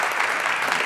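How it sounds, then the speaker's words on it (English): Audience applause at a board of education meeting, a steady, loud wash of many hands clapping, close and continuous without a break. "Nice round of applause for Vlada Jackson."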